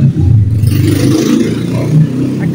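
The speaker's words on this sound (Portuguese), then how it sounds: "Como é que tá passando uma moto aqui," A motorcycle passes by outside, its engine rattling and revving unevenly at moderate loudness over a few seconds.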